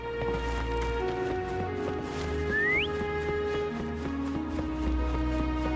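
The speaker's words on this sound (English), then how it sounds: "Try whistling." A short rising whistle from a character in the video game Wuthering Waves, calling a horse, heard once over a continuous game music and ambience bed.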